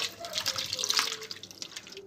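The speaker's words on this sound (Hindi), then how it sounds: "अब गोश्त को थोड़ा सा पानी लगा कर धो लें" Water splashes briefly from a tap as boneless chicken is rinsed, a close, choppy trickle lasting about two seconds.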